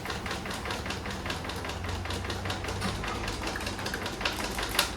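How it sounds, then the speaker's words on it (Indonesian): DTF printer white ink bottle shaken by hand: a quick, even run of rattling, sloshing strokes repeating for about five seconds, close by and fairly quiet. "kita kocok dulu si tintanya, tabung tintanya"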